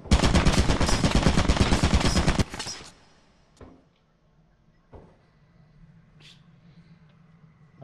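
A rapid, loud burst of automatic gunfire rattles for over two seconds in Lethal Company, then cuts off, leaving a few faint thumps and a low quiet hum.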